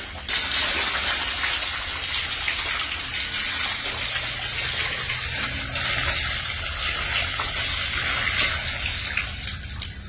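Water gushes and flows steadily across a flooded rooftop, knee-deep in places, after workers' carelessness blocked the drainage; a continuous, loud, broadband rushing wash with no talk, sustained for the whole stretch.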